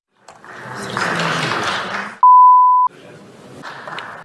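Loud steady censorship beep of just under a second, cutting into Turkish speech on a news broadcast covering a parliamentary insult, with talk before and after it.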